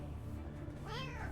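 A pet cat meows once, a rising then falling call in the last half second, heard over steady low background hum with no talk.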